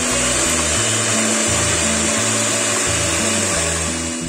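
Electric mixer beating four eggs into cheesecake batter, a steady loud motor whir with a shifting low pitch as the beaters work through the thick mixture, continuous with no talk.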